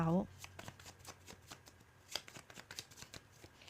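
Tarot cards are shuffled and drawn in a quiet room. A brief voice opens the passage, then crisp, rapid riffling and flicking clicks follow in an uneven, steady patter at close range.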